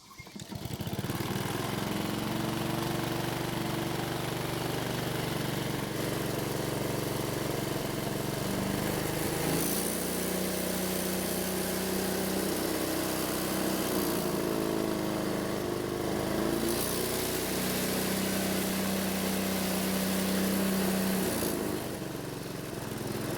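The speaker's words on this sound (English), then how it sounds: "So luckily the engine starts and runs" A Honda lawn mower engine, recently repaired for a clogged pilot jet and broken insulator gasket, runs steadily and loudly for the whole stretch, its drone shifting slightly in pitch as it idles and bogs under load.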